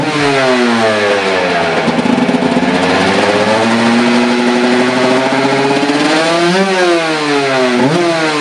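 A 2004 Aprilia RS 125 two-stroke motorcycle engine revs hard and loud, its pitch sweeping up and down through several throttle blips with a buzzy, high-revving character; no talking.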